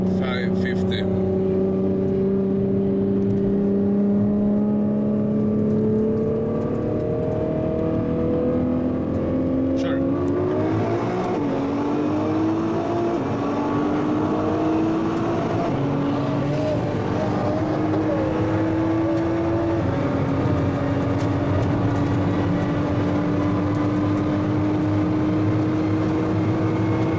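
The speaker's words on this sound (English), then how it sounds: "GTR 900 horsepower versus underground racing Gallardo" A 900-horsepower Nissan GTR racing an Underground Racing Lamborghini Gallardo, loud continuous engine roar climbing through several gear shifts with rising and falling pitch, steady and close throughout.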